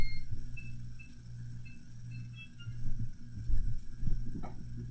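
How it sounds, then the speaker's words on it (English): Short, faint electronic beeps repeat irregularly over a low hum and background clatter, with no one speaking. "I'll just quickly turn off that timer."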